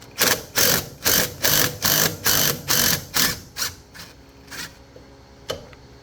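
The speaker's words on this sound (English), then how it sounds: "We're going to put our wrench, and then we're going to tighten the stud." A wrench works a strut stud on a 2003-2009 Toyota Prius front suspension, giving about nine loud, regular clicking bursts that slow and fade into a few scattered clicks near the end.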